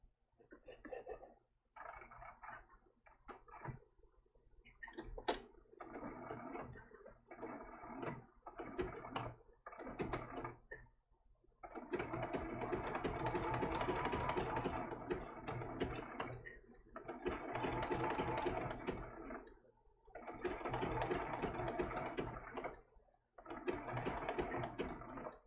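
A sewing machine stitching an appliqué eye on a baby turtle design, running in short bursts of rapid ticking stitches separated by pauses, then longer sustained runs, close and clear.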